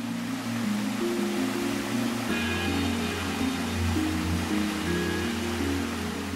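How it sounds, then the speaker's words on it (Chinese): Golden Whip Stream in Zhangjiajie, Hunan, flows steadily as an even, broad rush of water that never lets up, with a low droning tone running underneath. "这条小溪长12英里，终年流水不断"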